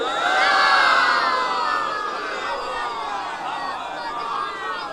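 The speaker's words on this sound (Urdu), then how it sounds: "بآواز بلند نعرے صلوات پڑھیں پھر سے۔" A large crowd of men at a Shia religious gathering marking Sajjad Day in Badgaon, Allahabad, loudly chanting salawat together, a dense surge of voices that swells at first and then holds steady.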